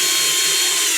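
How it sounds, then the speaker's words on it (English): A power drill whines loudly and steadily at close range for a brief moment, a continuous high motor buzz biting into wood. "I'm going to use a power drill."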